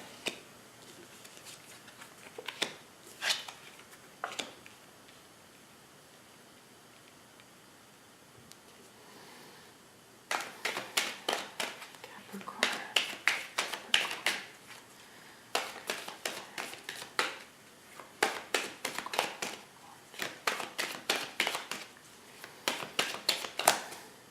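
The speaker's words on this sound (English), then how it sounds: "Almost done shuffling here." Tarot cards shuffled by hand in repeated bursts of soft riffling taps, quiet and close, with pauses between rounds and a faint background hiss.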